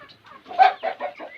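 Short bursts of clucking from a single turkey, a few quick throaty calls close by at moderate volume.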